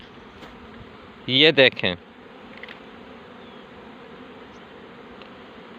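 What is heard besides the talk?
honeybees buzzing while working at the hive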